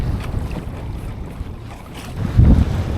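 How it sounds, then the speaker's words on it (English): Steady wind gusting over open water on a New England largemouth bass fishing outing from a boat, a constant low rushing roar with microphone buffeting that swells louder near the end. "Didn't take long for that wind to really pick up into a nice adverse level."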